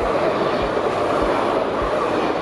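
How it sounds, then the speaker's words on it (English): An RE regional train runs through a station without stopping near the German border in Luxembourg, a steady loud rumble with rhythmic wheel thumps on rail joints and no voices. "That's an RE train skipping this station"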